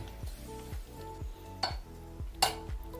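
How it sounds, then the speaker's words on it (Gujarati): Pearl millet flour is stirred into hot water in a pot taken off the heat, with repeated quick scraping strokes and light metallic clinks of the spoon in a steady rhythm; no speech. "આમાં ગાંઠ ના પડવી જોઈએ એ રીતના હલાવી દેવાનો છે"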